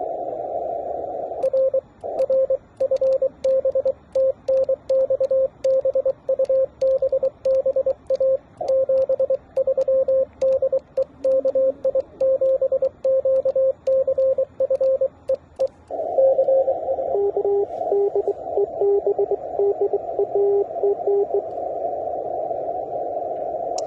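A steady amateur radio tone keys on and off in fast dots and dashes, a continuous stream of Morse code over faint static, shifting pitch near the end.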